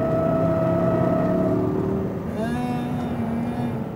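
An Audi R8 V10 RWD driven on the Speed Vegas track, its engine a loud, steady harmonic drone that drops briefly and then climbs in pitch as the car pulls forward again.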